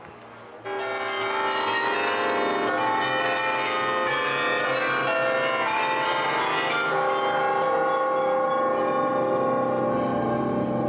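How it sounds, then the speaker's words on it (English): Church bells ringing from the bell tower in Bruges, heard from directly beneath: a dense, continuous wash of overlapping peals with rich ringing overtones, very loud and sustained throughout after a brief quieter start. "standing there under those bells, it was deafening"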